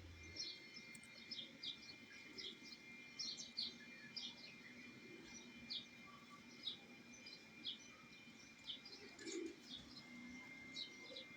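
A racing pigeon coos against an outdoor backdrop of many small bird chirps, with soft intermittent calls at a moderate distance and a steady background hum.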